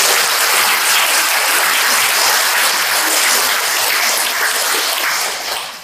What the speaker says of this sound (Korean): 고등학교 동창 3신들 박수 한번 쳐주세요.